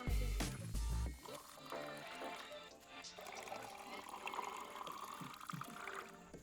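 Boiled water from an electric kettle is poured to make tea, a soft trickling fill that runs steadily for several seconds after a couple of brief knocks at the start.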